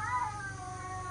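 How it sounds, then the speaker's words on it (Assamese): A cat gives one brief, close meow, a short tonal cry lasting about a second. "মানুহ নহয় মেকুৰ"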